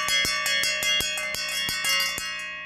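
A small bronze bell from a home collection rings with a bright, clear tone, struck repeatedly in a quick steady rhythm with each stroke ringing on into the next, close and fairly loud with no voices.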